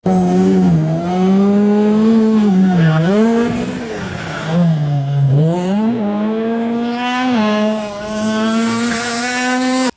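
A synthesized car sound effect of a racing car revving hard, its loud engine note rising and falling in repeated sweeping surges, with tire squeal and no voices.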